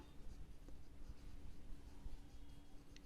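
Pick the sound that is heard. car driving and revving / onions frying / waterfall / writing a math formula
writing a math formula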